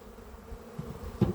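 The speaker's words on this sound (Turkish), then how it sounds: "Arı güzel hareketlenmiş." Honeybees buzz in a low continuous drone close by at a hive, with a brief louder buzz near the end.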